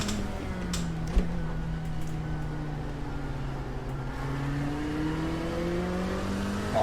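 An LMP2 prototype race car in iRacing runs a dirt track with a continuous droning engine whose pitch slowly rises and falls, plus one sharp thump early on and a louder surge at the very end.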